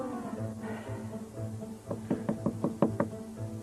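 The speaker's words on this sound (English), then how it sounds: "You call that knocking?" Knocking on a door in a comedy sketch: a quick run of about seven sharp raps in the second half, following a low background murmur, with no speech over them.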